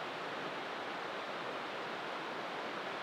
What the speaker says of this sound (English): That's rushing water.